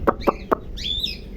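A hen gives three short, distinct clucks, followed by a higher drawn-out vocal call from the bird, close and clear over faint background noise.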